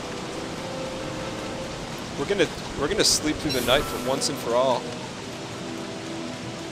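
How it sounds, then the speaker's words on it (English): Steady rain from the video game Don't Starve forms a constant soft hiss behind someone talking over it in the middle of the clip. "This rain is killing us, though."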